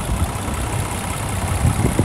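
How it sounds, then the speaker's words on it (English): A 2022 Land Rover Defender 110 X-Dynamic SE idles in the cold, a close, steady low engine rumble with an even, unbroken drone and no talking. "So here's the engine."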